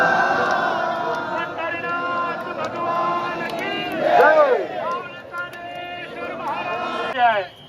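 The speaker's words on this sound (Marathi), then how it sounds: "पुढे महाद्वार चौकामध्ये फार गर्दी" A large, dense crowd of pilgrims packs Mahadwar square during the Ashadhi Wari, a continuous loud hubbub of many voices near and far, with shouts and a louder swell of chatter midway.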